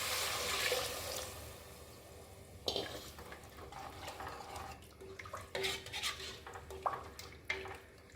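Three cups of water splash and trickle into a metal pot over sautéed ingredients, with occasional clinks and clatter of cookware nearby.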